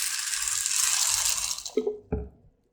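Water pours steadily into a bowl of black-eyed peas for washing, followed by a couple of brief drips and clunks as the flow stops.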